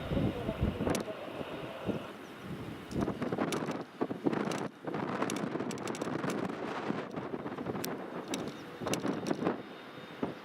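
A Loganair ATR turboprop comes in to land in strong wind at Edinburgh Airport, its engine drone distant and faint beneath heavy gusts buffeting the microphone.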